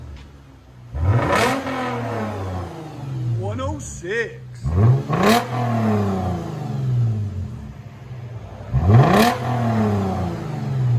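Three sharp revs from a 2013 Lexus GS350 3.5L V6 fitted with LCGP resonators, each rising quickly and settling back to a steady idle. A voice briefly speaks between revs.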